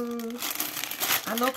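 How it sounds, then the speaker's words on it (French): Dense paper crinkling and rustling from unwrapping scrapbooking supplies runs throughout, loud and close, with a voice speaking briefly at the start and end over it. "Désolée pour le bruit, bouchez vos oreilles, parce que c'est beaucoup de papier là"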